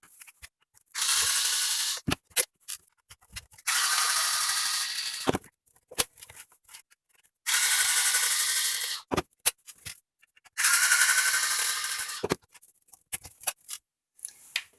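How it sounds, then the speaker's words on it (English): Screws are removed from the bottom of a Proctor-Silex toaster with a ratcheting tool, four long bursts of rapid clicking broken by short pauses and small knocks, close up with no talk. "We're going to go ahead and take those screws out now."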